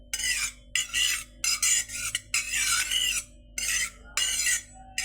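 Oil being spread around a hot kadhai with a spoon, giving repeated scraping, rasping strokes in bursts separated by short pauses, close and fairly clear.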